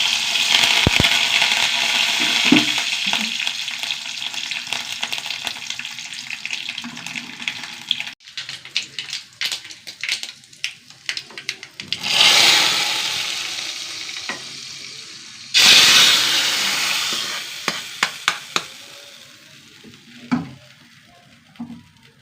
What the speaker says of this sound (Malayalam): കടുക് കറി ഇട്ടു വറ്റലമുളക്